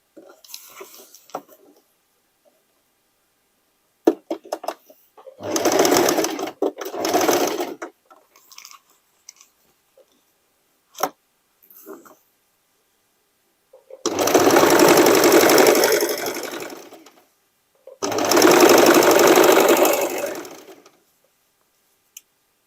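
Sewing machine stitching denim dress pieces, running in three sustained bursts of steady whirring separated by quiet pauses, close and clear, with small handling sounds in between.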